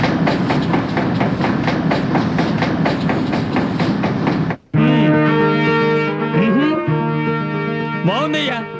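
A train runs on rails with loud, steady rhythmic clickety-clack, followed by a brief gap and then a sustained droning tone with rising and falling whine.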